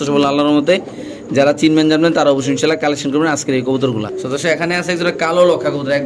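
Black pigeons coo at a seller's stall in Bangladesh, their throaty calls mixed closely with someone talking loudly and continuously over them.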